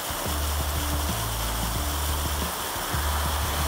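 A goose bathing splashes water in a steady, continuous rush of sloshing and flapping, close and loud, with a low rhythmic churning beneath it.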